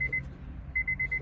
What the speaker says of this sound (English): sorry guys for the beep